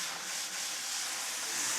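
Steak hitting very hot olive oil with green olives, onions and garlic in the pan, giving a steady, loud broadband sizzle and hiss that holds evenly throughout with no talking.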